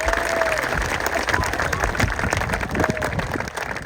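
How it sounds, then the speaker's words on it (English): A festival crowd at an adventure motorcycle event applauds rider Chris Birch, loud sustained clapping with some cheering mixed in, steady throughout. "Let's have a massive round of applause for Mr."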